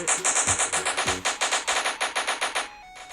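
Rapid automatic gunfire in the Roblox game Crazy Zoo, a loud, evenly spaced burst of shots lasting nearly three seconds before stopping abruptly, no voices.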